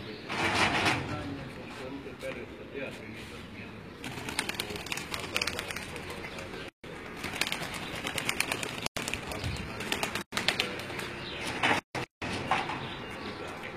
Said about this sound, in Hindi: पर बंदे कबूतर भट्ट साहब छड़ रहे ने जी